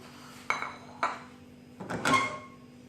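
Roasted spices for homemade chaat masala are tipped from a pan into a bowl, giving a few sharp metallic clinks and scrapes, two quick knocks and then a longer rattling scrape, close and otherwise quiet.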